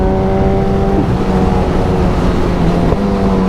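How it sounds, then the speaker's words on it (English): High-performance motorcycle with a quick shifter and straight-through exhaust, heard from the rider's position as a steady, loud engine drone with tonal hum and a brief blip near the end, no voices. "Some noise off that quick shifter, by the way."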